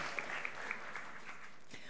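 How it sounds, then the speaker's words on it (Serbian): Audience applause at a sports award ceremony honoring Olympians, a brief, moderately distant patter of clapping hands with a few sharper claps, fading slightly toward the end. "Jedan aplauz za Tijanu Bogdanović."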